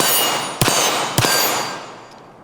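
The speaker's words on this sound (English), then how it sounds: "See if we can hit those tiny little targets." Pistol rounds striking small steel targets at a range: two sharp metallic clangs about half a second apart, each followed by a bright ringing tail that fades under steady broadband outdoor noise.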